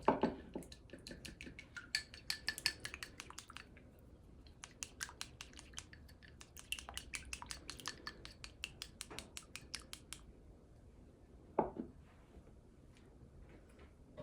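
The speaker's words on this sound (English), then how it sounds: "I'm gonna whisk that egg yolk with cream" Egg yolk and cream are whisked in a bowl: rapid, light metallic clicking strokes in quick bursts with short pauses, fairly quiet and close, in a home kitchen.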